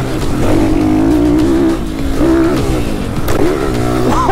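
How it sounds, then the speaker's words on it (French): A motorcycle with a 125 engine revs hard and climbs high through the rev range, close and loud. The pitch rises and falls in repeated surges, with no talking over it. "Quand elle monte dans les tours cette moto c'est vraiment impressionnant."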